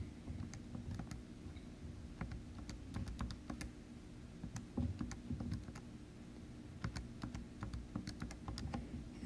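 Fingers tap out a long entry on a calculator keypad during a math lesson: quick clusters of light plastic clicks with short pauses, close and fairly quiet, alone.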